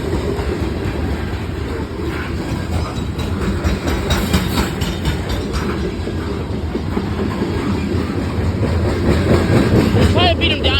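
A freight train rolls past on the railroad at Bell Buckle Fosterville Road near Bell Buckle, Tennessee, with a loud, continuous rumble and clickety-clack of wagons close by throughout, and people talking over it.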